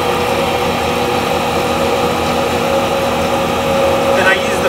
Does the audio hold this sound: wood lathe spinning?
yes